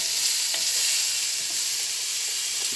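Carrots frying in a pan, a constant, even sizzle with faint stirring scrapes here and there, close and steady with no voices.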